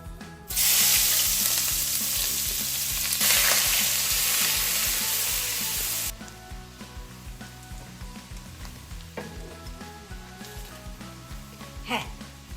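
Chopped onion dropped into hot oil bursts into a loud, dense sizzle that holds for several seconds, then settles to a quieter crackling fry with occasional stirring clicks.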